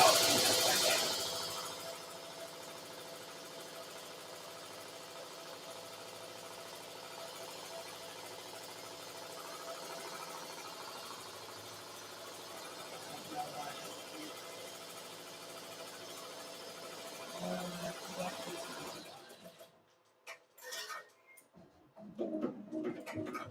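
Home sewing machine running a tack-down stitch on a four-leaf clover design, a steady continuous mechanical whir lasting most of the time, then stopping abruptly into near silence with a few small clicks and handling sounds.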